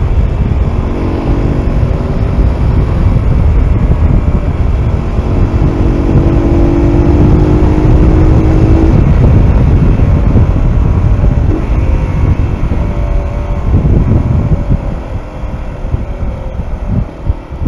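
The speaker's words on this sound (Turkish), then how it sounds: "Arada egzozdan gelen patlamalar da gayet hoşuma gidiyor." A Mondial Rx3i Evo motorcycle rides at steady speed with loud, continuous engine and wind roar. Any exhaust pops are buried in the engine and wind noise and cannot be picked out.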